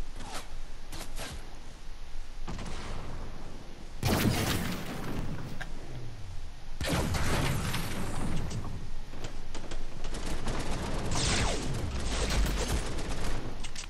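Light machine gun fire in a shooter video game, loud bursts of rapid automatic shots with sharp impacts, arriving in several separate volleys mixed with other game effects.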